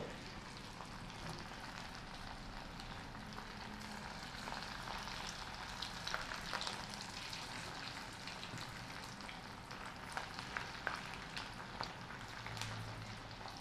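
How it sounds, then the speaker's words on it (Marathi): Small bajra (millet) flour pakoda fritters fry in hot oil over a lowered gas flame, making a continuous, even crackling sizzle with scattered pops and no voices. "असेच आपण सगळे बाकीचे तळून घेऊ"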